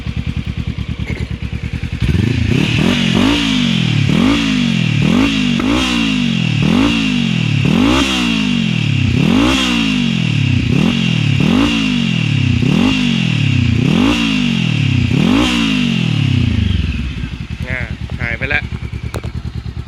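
A turbocharged Honda CBR500 motorcycle engine, warming up, is revved repeatedly in quick, even bursts, about a dozen rising and falling blips over a clattering idle, then dropping back to idle.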